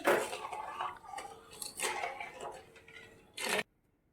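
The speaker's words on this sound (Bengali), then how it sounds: "এটাকে সমানে নেড়ে যেতে হবে, সমানে এইভাবে এটাকে নাড়াতে হবে" A spoon stirs cardamom sugar syrup for gulab jamun or pantua in a pot, making uneven scraping and clinking strokes against the metal, close and fairly soft, ending abruptly.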